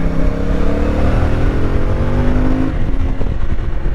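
A CFMoto 450 MT motorcycle engine revs loud and close, its pitch climbing steadily through the gears before dropping back into a rougher, uneven idle-like burble with no talk over it.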